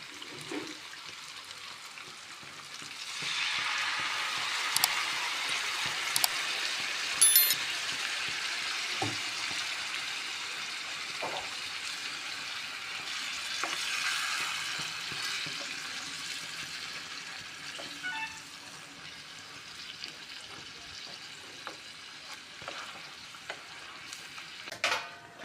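Stuffed brinjal masala gravy sizzles and bubbles in a pan after water is poured in, with steady frying hiss, occasional stirring scrapes and utensil clinks, close and continuous with no talking.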